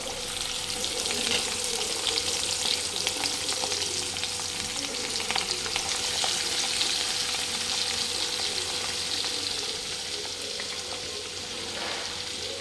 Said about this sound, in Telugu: చూడండి, ఆయిల్ బాగా మరుగుతుంది.